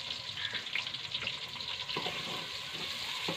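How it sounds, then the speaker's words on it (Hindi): Sliced onions fry in hot ghee for a kali mirch chicken dish, giving off a close, constant sizzle and crackle with occasional stirring clinks and light spattering. "घी हमारा हो गया है गरम। अब हम इसमें प्याज ऐड कर लेते हैं।"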